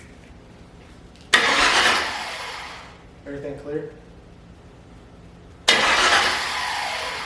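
A race car engine starts with a loud burst that fades off, then a short spoken exchange, then a second loud start-up burst near the end.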